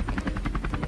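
A helicopter thuds overhead in a fast, steady rotor beat, the rhythmic chopping pulses clear and fairly loud through a brief moment, with no talking.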